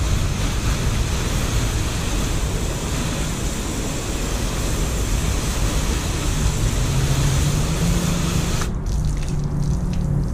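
Steady spray of a water hose rinsing dirt off a car with Jade Graphene Pro ceramic coating, a loud continuous hiss that cuts out near the end.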